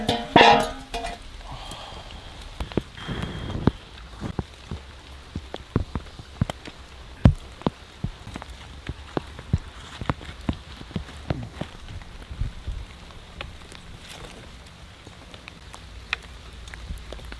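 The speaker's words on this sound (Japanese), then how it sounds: "特に今は雨まで降っていて" Rain falling on a deserted island in Indonesia: a soft, steady patter with scattered sharper drops tapping nearby surfaces, faint and continuous throughout.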